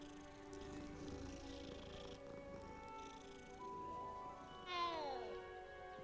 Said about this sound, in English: I'm going to pet the cat again, too